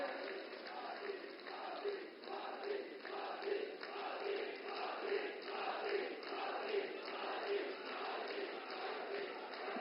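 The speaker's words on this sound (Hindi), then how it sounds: "जोरदार ताली बजा करके आप उनका वंदन करें" A large crowd at a political rally applauds and cheers loudly, a dense continuous roar of clapping with rhythmic swells, heard through a distant, band-limited public-address feed.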